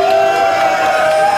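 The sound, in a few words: concert crowd applause and cheering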